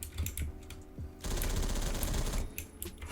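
Rapid automatic gunfire from a Roblox Phantom Forces match, bursts of shots punching through walls; a few spaced shots open, then a loud dense stream of fire runs for over a second before trailing off into scattered rounds.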